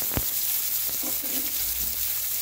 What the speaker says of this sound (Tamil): ஆனியன் போட்டதுக்கு அப்புறமேட்டுக்கா நல்லா வதக்கிக்கணும்